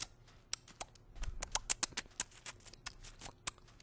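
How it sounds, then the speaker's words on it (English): A Minecraft character eats pork, with quick crunchy chewing clicks and smacks in an uneven rhythm, quiet and close. "That's the sound of eating pork,"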